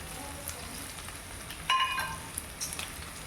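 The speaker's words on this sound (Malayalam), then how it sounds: "നമുക്ക് നല്ലപോലെ ഒന്ന് വഴറ്റി ഒരു ബ്രൗൺ കളറാവണ വരെ ഒന്ന് വഴറ്റിയെടുക്കാം" Green chillies, curry leaves and dried red chillies sautéing with chopped onion in a pan give a steady close sizzle with a few scraping stirs, alone without talk.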